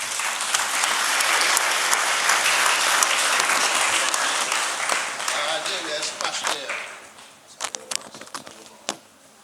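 A church congregation claps loudly for Pastor Mario, a dense, steady applause that fades and thins toward the end into a few scattered claps.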